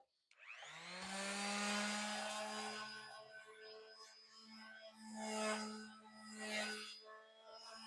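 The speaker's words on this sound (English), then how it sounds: "I'm going to be using the palm sander" A palm sander runs against wooden pumpkin decoration pieces, a steady electric buzz starting abruptly and holding for several seconds with slight shifts in pitch as pressure changes, close by and fairly quiet.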